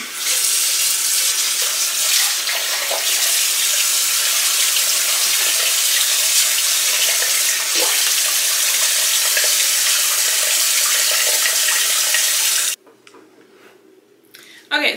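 Tap water runs steadily into a sink during face washing, a close, even hiss lasting about thirteen seconds before it cuts off abruptly.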